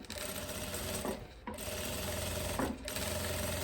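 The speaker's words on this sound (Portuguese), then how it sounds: "vou virar essa costura pra lateral e vou fazer um pesponto aqui em cima" A sewing machine topstitches a reinforcing seam over the bodice cup of a viscose summer dress, its motor humming in steady close runs broken by two brief pauses.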